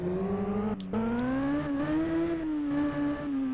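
Yamaha R1 motorcycle from 2002, tuned, its engine revving hard and accelerating in a steady rising drone with a brief dip at the gear change, loud and close, no voices.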